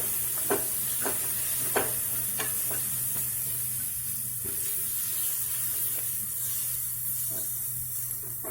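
Cumin, salt and chili powder masala frying in a pan, a steady sizzle broken by a series of sharp stirring scrapes in the first half, then a quieter continuous fry.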